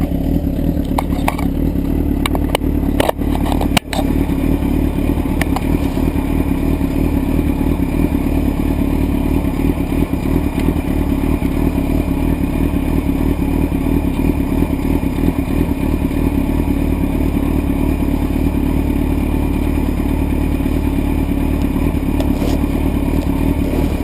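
A motorcycle idles and creeps slowly as a learner works the clutch friction zone and a little throttle, giving a loud steady engine rumble close to the microphone, with a few clacks near the start.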